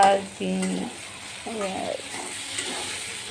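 Pointed gourd fries lightly with onion and green chilli, a soft continuous sizzle close by, overlaid by two short bursts of a speaking voice.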